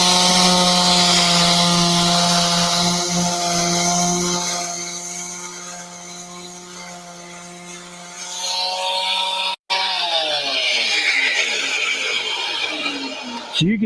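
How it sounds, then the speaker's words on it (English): A steady mechanical drone with strong harmonic hum runs throughout while a wooden table is sanded, shifting pitch near the end, with scratchy gritty texture underneath; no speech. "sometimes hand sanding is the best way"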